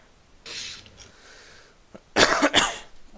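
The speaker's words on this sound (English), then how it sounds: "Sorry about that cough." A faint breathy sound comes first, followed by a loud, close double cough after a brief pause.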